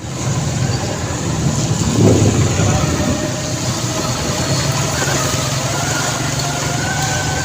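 A motorbike engine runs in a flooded Lahore street during a heavy rain spell, a steady close rumble that idles evenly throughout, with a brief louder swell early on.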